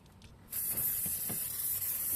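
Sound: Cotora spray can nozzle spraying polish

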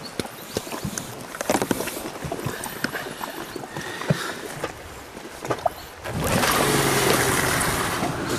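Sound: Suzuki boat motor running on a river

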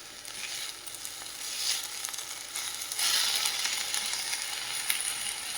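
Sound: fenugreek leaves (methi) frying in a pan for chutney

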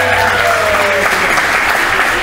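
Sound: wedding guests' round of applause

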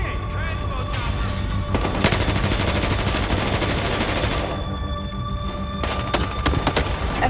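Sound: gunfire in Battlefield Hardline video game

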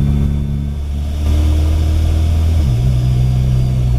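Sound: Mitsubishi Evo X engine with new turbo whistling

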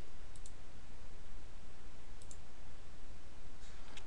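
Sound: mouse clicking while drawing with polygon lasso tool

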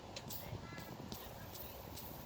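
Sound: worn fan bearing making noise

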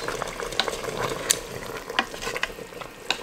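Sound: stirring chicken with beer and tomatoes in a pot

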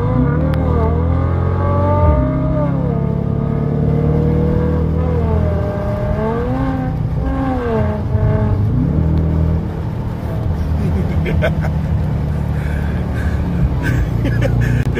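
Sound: Dodge car engine revving and accelerating

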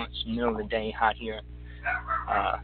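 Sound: dog barking

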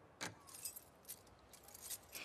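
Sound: keys jangling in the video game The Last of Us 2

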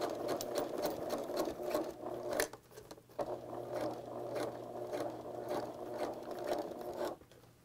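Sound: sewing machine basting zipper tape onto seam allowance

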